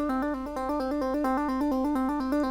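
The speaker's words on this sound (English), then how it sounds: "You can combine the two for what's called a trill," A rapid guitar trill of alternating hammer-ons and pull-offs between two notes, an even, fast back-and-forth pattern played close and clear without any talk.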